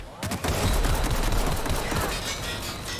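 Rapid gunfire in a sci-fi shooter video game, a dense sustained barrage of loud overlapping shots with heavy low-end thumps, close and continuous, with a voice faintly underneath.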